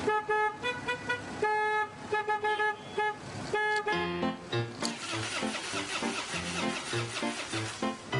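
Car horn toots and honks on a road, repeated short blasts mixed with engine and traffic noise, fairly loud and alone without talk.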